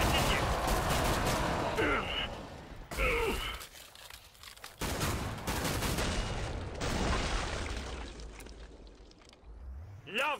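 Sharpshooter gunfire in Killing Floor 2 on the Spillway map, heavy loud shots and rapid bursts amid chaotic game noise, with groans and crunching effects mixed in and short lulls between volleys.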